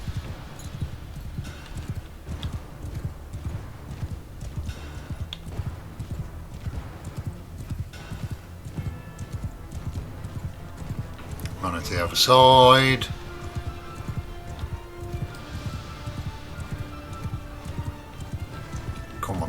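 Horses gallop in battle in the video game Mount & Blade II Bannerlord, a continuous rapid clip-clop of hooves with a brief loud neigh midway, while someone talks over it.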